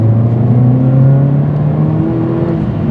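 A Mercedes-AMG A45 4MATIC+ (W176) revs steadily under moderate acceleration on all-season tires, heard from inside the cabin as a continuous engine drone with a slowly rising pitch.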